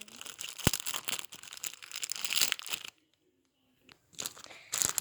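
Crinkly plastic packaging on a children's colouring book torn and crumpled open up close, loud rustling bursts, a short quiet gap, then more crackling.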